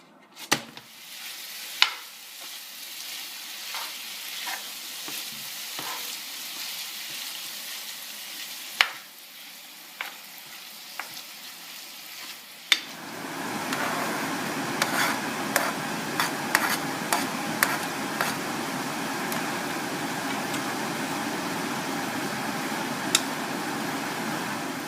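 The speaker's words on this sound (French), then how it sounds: "faire chauffer de l'huile dans une poêle et y ajouter la viande." Meat and onion strips fry in oil in a pan, first a quiet hiss dotted with clicks and pops, then a louder, fuller sizzle after about 13 seconds as the onions go in, with sharp crackles throughout and no talk.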